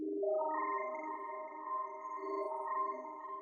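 A granular-stretched synth patch in Ableton, grain size raised, swells into a smooth, spacey sustained tone with layered harmonics that hold steadily for a few seconds, soft and alone.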